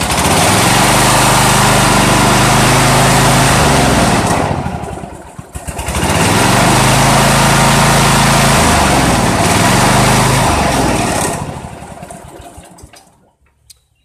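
An old riding lawn mower engine runs on choke, roaring loud and close with a rough, uneven drone that dips and surges twice before tapering off near the end.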